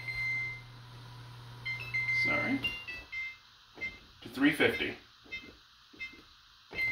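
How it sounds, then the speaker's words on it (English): A kitchen timer set for cookies baking in the oven beeps in short, high electronic bursts, moderately close, while someone talks over and between the beeps. "That's my timer for the other cookies."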